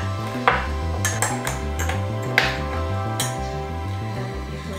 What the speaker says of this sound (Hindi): और फिर इसको अच्छे से क्रश कर लेंगे, पुदीने के फ्लेवर सब निकल के आए बाहर।